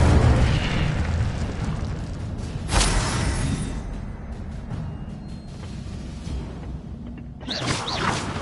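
Incendio fire spell cast in the Hogwarts Legacy video game on PS5, a loud fiery whoosh and booming burst that swells and roars on for several seconds, then cuts off and flares again briefly near the end.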